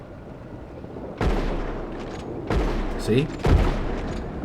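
Three loud, booming gunshots ring out with long reverberating tails in Red Dead Redemption 2 Online, fired one after another at a bounty target, while someone speaks briefly between them.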